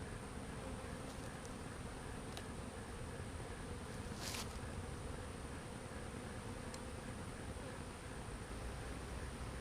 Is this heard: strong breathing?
no